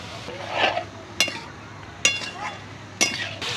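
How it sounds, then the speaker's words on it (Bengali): A spoon stirs and sautés spices in a pan over a low flame for a Bengali navratan korma. Three or four sharp metallic clinks fall about a second apart over a faint background hiss. "এই সব উপকরণগুলো দিয়ে খুব ভালোভাবে আমি কষিয়ে নেব।"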